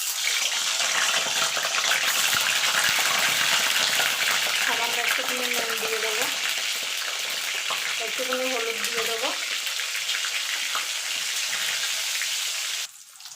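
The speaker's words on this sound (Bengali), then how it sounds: "দেখুন বন্ধুরা, কড়াই গরম হয়ে গেছে, তেল দিয়ে দিয়েছি। এবার ডিমগুলো ছেড়ে দেবো।" Eggs drop into hot oil in a kadai wok, making a continuous hissing, bubbling fry that holds steady throughout while a person talks over it, then cuts off abruptly at the end.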